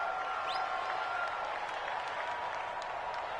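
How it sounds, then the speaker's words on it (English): Stadium crowd noise in a football video game, a loud, steady roar and cheer from a domed arena sustained throughout. "The crowd here in the Dome making things difficult."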